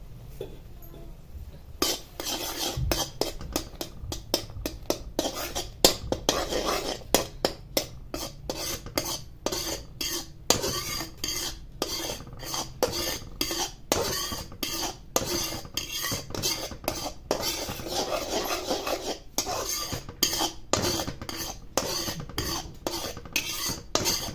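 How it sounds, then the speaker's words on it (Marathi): Milk being stirred continuously in a pan to reduce it into khoa for carrot halwa, a steady run of rapid spoon scrapes and clinks against the metal, close and busy with no talking. "सारखं स्टर करत राहायचे जेणेकरून हे आटलं जाईल दूध आणि आपला खावा तयार होईल"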